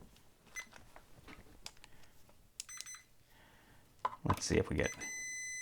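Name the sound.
multimeter beeping while testing a landscape lighting transformer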